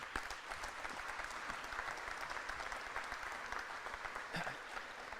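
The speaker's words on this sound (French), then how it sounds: "je pense qu'on peut vous donner une bonne main d'applaudissements à tous." An audience at a special corporate investment announcement event claps steadily in a sustained round of applause, a dense, even patter of many hands heard throughout with no speech over it.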